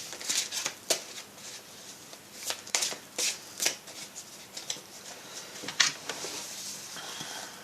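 Tarot cards being shuffled by hand: repeated crisp riffling and flicking bursts in an irregular rhythm, close and fairly quiet, with no talk.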